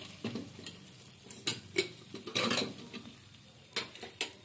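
A spice masala of onion and tomato sizzles in a pan while a utensil scrapes and clinks against the metal in quick, irregular strokes close by, with no talking.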